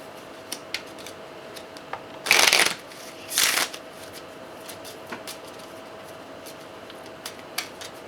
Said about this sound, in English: So we're going to go ahead and shuffle this up.